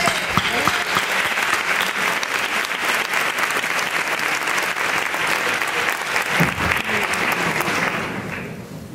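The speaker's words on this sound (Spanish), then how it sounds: "para el que pido un fuerte aplauso" Strong, sustained audience applause for José Lucena's ballet company, loud and dense clapping from a large crowd that holds steady and then fades slightly near the end.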